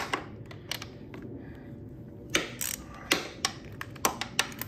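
Mechanical clicks and metallic clinks from loosening the cylinder head off a Kawasaki KX112 dirt bike engine, with irregular sharp taps and ratchet-like bursts close by over a low workshop rumble.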